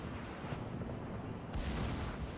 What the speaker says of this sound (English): Oh man, that Fuso is just picking away at Dajer